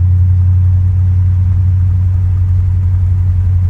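A 1959 Chevrolet Impala engine, driven for the first time in 50 years, drones steadily at roughly 30 mph in second gear, a loud continuous low rumble with no talking.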